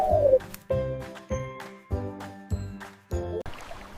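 Pigeon calls in a series of about six evenly spaced, short tonal bursts with a soft chiming quality, close and clear with no talking over them.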